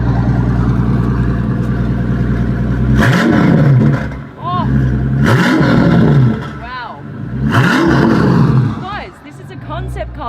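Maybach Exelero concept car engine revved hard three times in succession, each blip a loud rising roar that sinks back to a throaty idle between, close by, with a voice briefly reacting.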